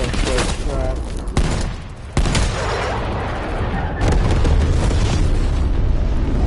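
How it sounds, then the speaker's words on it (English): Napalm strike explosions in the video game Call of Duty Cold War, loud rolling booms and crackling blasts mixed with gunfire, dense and continuous with sharp bursts. "Enemy napalm strike incoming"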